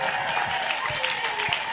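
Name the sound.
applause and ululation in a church service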